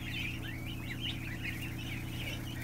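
A barn floor full of ducklings piled together makes a continuous chorus of thin, high peeping, moderately close and fairly soft, over a low steady hum, with no one talking.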